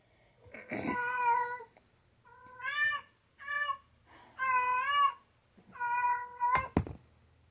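A cat meows several times in a quiet indoor room, five drawn-out, close and clear calls spaced over several seconds, with a sharp thump near the end.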